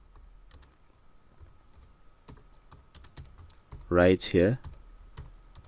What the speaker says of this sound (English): if I type a headline here, let me say I just type learn the art of marketing